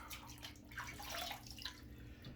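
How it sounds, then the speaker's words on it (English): Warm water running from a faucet into a bathroom sink before a shave, a soft continuous splashing hiss at low level with no talking. "Let me get my warm water going here"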